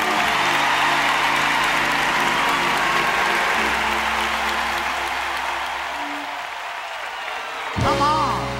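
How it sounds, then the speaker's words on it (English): A large church crowd applauds for a bishop at a gospel music service. The clapping is steady and sustained, fades slightly toward the end, and a brief sharper burst follows. "I want you to put your hands together for the one, the only Bishop Carlton Pearson."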